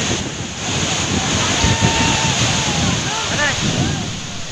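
Waterfall at the Kharatwada project in Adilabad district, a loud, continuous roar of falling water mixed with wind buffeting close to the microphone, with a voice talking over it.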